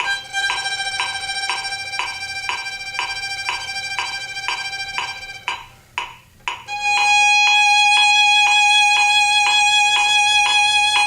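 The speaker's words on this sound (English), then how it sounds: "So if you're playing second violin, the last 5 measures will sound like this." Synthesized, bell-like string tones play the second violin part of a passage's last five measures, pulsing in repeated short notes, then after a brief gap holding sustained tones, fairly loud and alone.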